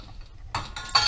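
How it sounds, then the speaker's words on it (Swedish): Dishes and cutlery clink as they are loaded into a home dishwasher, a few quick close clatters in a short burst. "Jag ska stoppa på in i diskmaskin"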